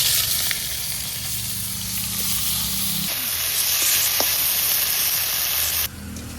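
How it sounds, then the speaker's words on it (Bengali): Flat beans, plantain and eggplant frying in hot oil, a steady, dense sizzle that continues without a break, close and loud, with a slight shift in tone near the end and no voices. "এখন সিমটা আর হচ্ছে গিয়ে কলাটা আর বেগুন এইগুলো আমি ভেজে নেবো এক এক করে"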